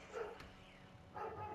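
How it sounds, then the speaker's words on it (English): Dogs bark a couple of times indoors, faint and somewhat distant, with quiet gaps between the barks and no talking. "my dogs are barking."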